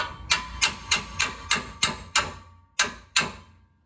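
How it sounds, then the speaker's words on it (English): A slide hammer strikes a stuck oxygen sensor on a Jeep TJ 4.0L about nine times in a steady, evenly spaced rhythm, each blow a sharp metallic clank, with a short pause before the last two. "give it some good old fashioned what for with the slam-a-hammer"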